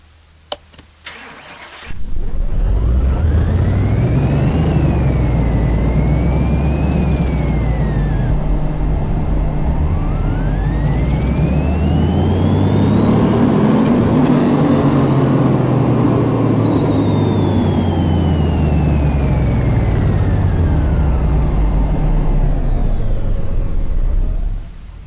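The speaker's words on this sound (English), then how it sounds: "let's get this thing on the dyno so you guys can see how much of power this thing is actually making" A BMW M4 GTS engine in Car Mechanic Simulator 2018 fires up and revs hard on a dyno, climbing through gears in a long, loud, continuous roar that rises and falls before cutting off, with no talking.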